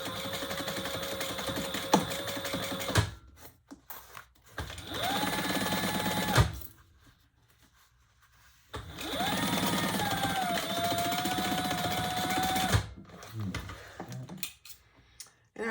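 A sewing machine stitches up the sides of a leather tote bag in long, steady, loud whirring runs, stopping and restarting a few times with short pauses between.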